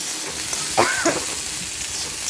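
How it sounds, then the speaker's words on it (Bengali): Chopped okra fries in hot oil in a pan, giving a steady close sizzle and crackle with a short stirring scrape partway through. "এবার এটাকে ভালো করে একটু ভাজা ভাজা করে নিতে হবে"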